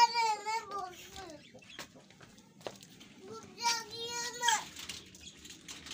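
Hens cluck and cackle nearby in rising, stuttering bursts, with soft background voices and a few sharp knocks.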